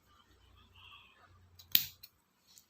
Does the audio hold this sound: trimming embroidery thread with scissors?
yes